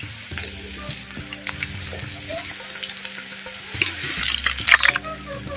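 Pieces of banana flower soaked in masala frying in hot oil, a continuous close crackling sizzle with bursts of sharper spattering toward the end, no talking.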